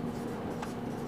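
Brief scratch of writing on a classroom board in a short continuous stroke, faint and steady under a low background hum.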